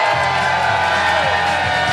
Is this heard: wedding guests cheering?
yes